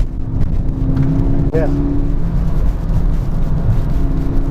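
Mk6 VW Golf GTI Edition 35 engine pulling steadily under acceleration from inside the cabin, a constant drone with road noise and a short spoken word.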